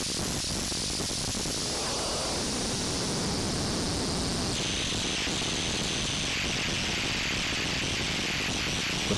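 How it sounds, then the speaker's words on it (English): JMT Synth NF2 noise synthesizer putting out a dense wall of hissing static with fizzles and crackles, a high whistling tone running across the top, steady and loud with a shift in texture midway, no voices. "But there's lots of good fizzles, crackles in there."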